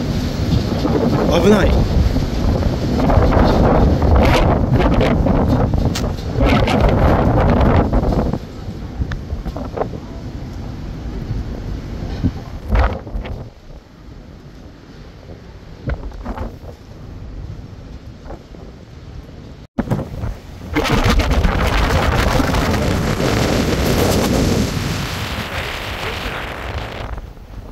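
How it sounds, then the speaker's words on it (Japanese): Very strong wind on the Belgian coast buffets the microphone with loud roaring gusts that ease for a while and then return at full force, with a voice briefly calling out. "非常に風が強いですね"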